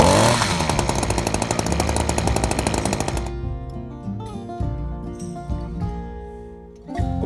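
A powered hedge trimmer's reciprocating blade chatters loud and close while cutting a hedge, a dense rapid buzz that cuts off after about three seconds, leaving sporadic snips, knocks and rustles of branches.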